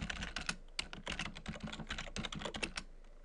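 Quick, close keystrokes on a computer keyboard as commands are typed into a firewall management server's command line, a brisk irregular patter of clicks with no talking.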